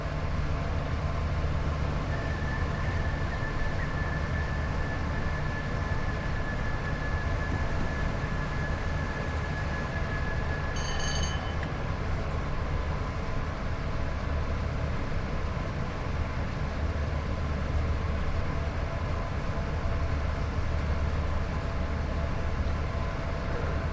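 A Class 87 AC electric locomotive in Train Sim World 6 runs with a continuous, loud rolling drone and rail rumble, a thin steady whine holding for several seconds and a short chime sounding once midway, with no talking.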